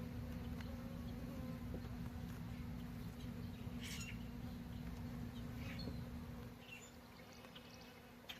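Honey bees buzzing around an open hive during an inspection, a dense, steady drone from many insects close by, continuous throughout and easing slightly near the end.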